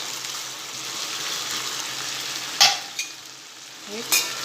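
Steamed moong dal muthiya go into a hot oil tempering with a little added water and sugar, making a steady close sizzle broken by a few sharp spitting bursts.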